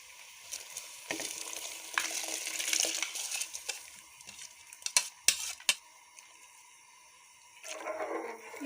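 Soaked rice tipped into a pot of boiling water for chicken biryani and stirred, with a rushing pour and bubbling, then several sharp spoon knocks against the pot before the boiling swells again.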